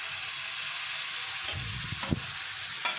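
Egg pieces drop into a pan of sizzling egg curry. A steady frying hiss carries a few sharper spatters and stirring scrapes near the end, with no voices.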